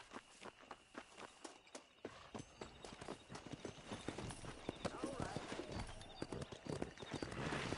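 Horse hooves clip-clopping while riding in the Red Dead Redemption video game, a steady rhythmic beat of hoof strikes that speeds up and grows denser and louder, with a faint voice in the background.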